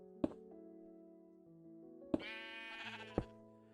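Sheep bleating in Minecraft, several short game bleats spaced across the clip, each with a sharp onset and a sustained note, clear and fairly loud with no talking.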